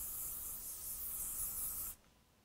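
Hairspray from an aerosol can is misted over a big hair bun in one steady, close hiss lasting about two seconds, which then cuts off sharply into near silence.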